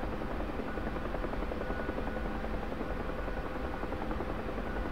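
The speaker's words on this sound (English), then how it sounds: "Kicking up a really cool dust storm behind the helicopter as I'm flying along here." A Huey helicopter flies low over the Persian Gulf in DCS, its constant loud rotor chop and engine roar filling every moment with no voices.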